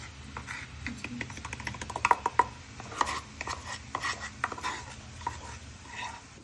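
A spoon stirs powder into boiling sugar syrup for homemade chocolates, making quick irregular scraping and tapping against the pan that sharpens in the middle and then settles into a steady stirring rhythm.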